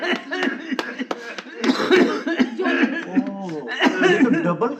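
A voice coughing repeatedly in short bursts mixed with chuckling, close and fairly loud, with some vocal sounds in between.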